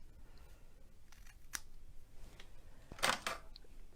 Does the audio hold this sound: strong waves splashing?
no